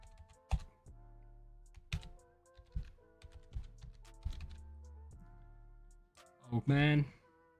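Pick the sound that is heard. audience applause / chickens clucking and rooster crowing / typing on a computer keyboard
typing on a computer keyboard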